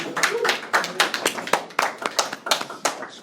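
Students clapping in a philosophy lecture hall, a loose handful of hands giving sharp, uneven claps close by for about three seconds.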